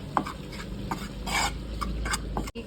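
Spice powders, including pepper powder, are stir-fried in a pan with repeated scraping strokes of a utensil against the metal over a faint sizzle, close and steady for a few seconds.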